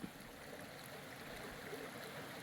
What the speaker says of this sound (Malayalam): ഈ മനോഹരമായ ഈ പുഴയുടെ അരുവിലാണിത് തൊമ്മങ്കുത്ത് എന്ന് പറയുന്ന സ്ഥലമാണിത്